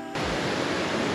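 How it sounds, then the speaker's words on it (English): A waterfall near Maroon Bells, Colorado, gives off a steady, loud, broadband rushing roar that fills the mountain air evenly, with no voices over it. "you can hear a waterfall somewhere in there"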